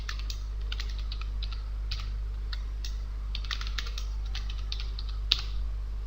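Computer keyboard typing a new password during a Windows Server 2012 Active Directory setup, irregular clicky keystrokes in short bursts over a steady low electrical hum, no talking.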